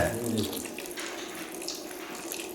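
A kitchen tap runs steadily with a continuous rushing hiss of water, close by, and no one speaking.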